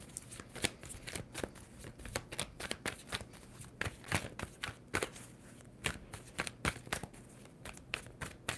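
Tarot cards are shuffled repeatedly, producing rapid crisp riffling bursts and flicks in an irregular rhythm, close up and without speech.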